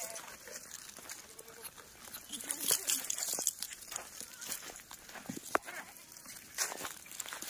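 Kathiawari goats bleat at a busy goat market, several calls near and far over crowd murmur and footsteps crunching on the ground.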